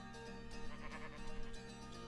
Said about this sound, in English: Also, why do I hear sheep?